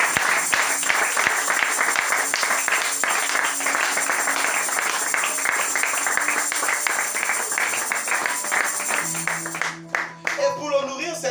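A church congregation applauding: dense, steady clapping from many hands that carries on for several seconds, then thins out near the end as a voice and other sounds come in.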